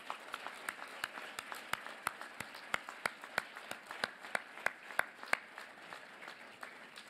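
Applause rises for a Hall of Fame inductee at an evening ceremony: steady, evenly spaced claps, fairly faint and distant, continuing without pause for several seconds and no voices over them.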